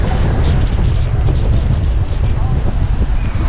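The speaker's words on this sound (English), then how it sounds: "this side of the water is super windy" Strong wind buffets the microphone beside the water at Coco Cay, a loud, continuous roar of gusts with a faint hint of distant activity.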